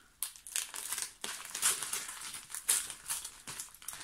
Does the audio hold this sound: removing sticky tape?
yes